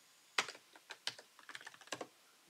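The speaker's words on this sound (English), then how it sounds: "you can directly type your text as well." Keys clatter on a computer keyboard in a quick, irregular burst of close, crisp clicks, some louder than others, with no talking over them.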